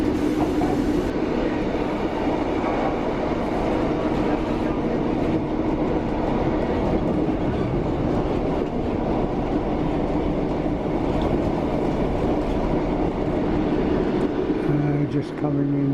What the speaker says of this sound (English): This train goes to Hereford.